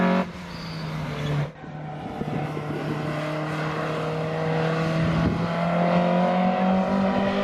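An Alfa Romeo 1600GT Junior engine runs on a race track during a club track day, a steady, sustained engine drone that rises slightly in pitch, with a brief dip partway through and no talking.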